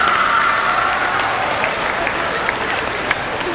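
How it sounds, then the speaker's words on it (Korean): An audience at a Korean writing contest event applauds a visiting education official, a sustained wash of clapping that thins out toward the end with a few louder individual claps. "여러분 큰 박수 부탁드립니다"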